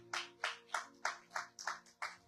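Steady rhythmic clapping, about eight even claps at a brisk pace, rings out during a church service. It sounds distant and faint.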